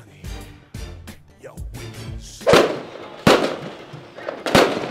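Diwali firecrackers burst in a quick series of sharp pops and bangs, the last few louder and nearer with echoing tails, with a voice heard briefly between the blasts.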